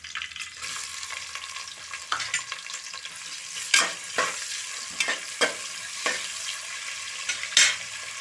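Big onions fry in a pan for ghee rice with a steady sizzle, broken by repeated sharp scrapes and clinks of a spoon stirring against the metal, close and moderately loud.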